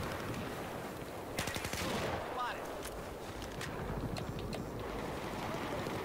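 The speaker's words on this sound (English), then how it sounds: "I just heard someone shooting right next to me" Battlefield 4 gunfire crackles close by in rapid bursts, a flurry of sharp shots in the middle over a constant roar of snowmobile engine and wind, with a player talking at times.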